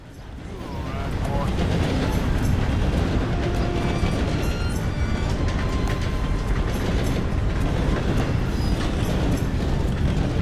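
A train rolls past in Red Dead Redemption 2, a loud, steady rumbling roar with rhythmic clatter that swells in after a second and keeps going, with a voice talking over it.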